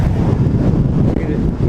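Wind buffets the microphone of a cyclist riding into a headwind on an evening ride, a loud, steady low roar with no talking.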